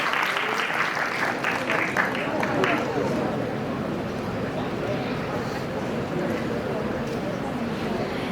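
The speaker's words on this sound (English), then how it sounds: "Give him a round of applause." An audience at a startup competition claps for a departing guest; broadband clapping is brighter for the first few seconds, then settles into a softer, steady patter that carries on evenly to the end.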